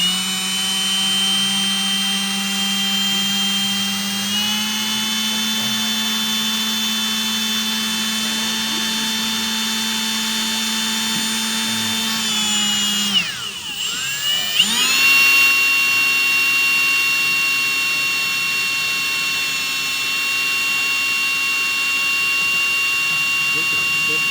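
Power drill with left-hand bits drilling out broken bolts on a 1962 Ford Thunderbird, a steady loud whine held for long stretches with a brief stall and dip midway before spinning back up.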